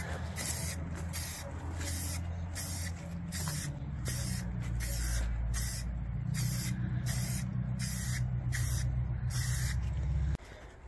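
Aerosol primer spray paint hisses onto a 1970 AMC Gremlin in repeated bursts, roughly a dozen short sprays in a steady rhythm over a low background hum, close and loud.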